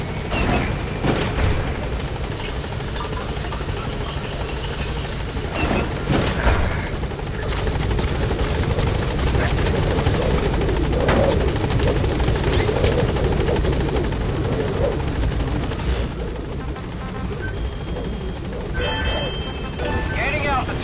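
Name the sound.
helicopter gaining altitude in Metal Gear Solid V video game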